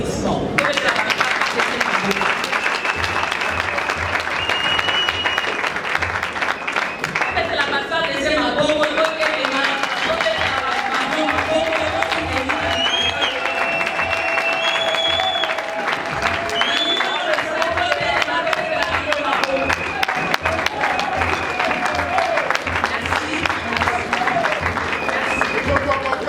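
A crowd at a political party gathering in Kinshasa applauds and cheers at length, with steady clapping running beneath talk, whistles and other tonal sounds, and shifting noise throughout.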